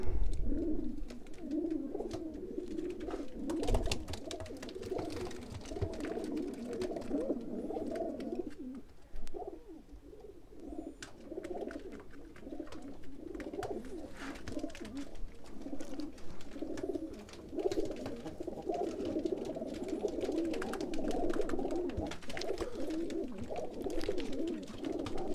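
Large breeder pigeons coo continuously in low, throaty rolls, several birds overlapping at moderate distance, with no talking.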